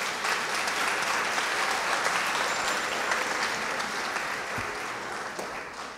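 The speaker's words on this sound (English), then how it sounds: "Can you give them a round of applause?" Sustained applause from a large audience at a high school senior event, steady dense clapping filling the whole stretch with no talk over it.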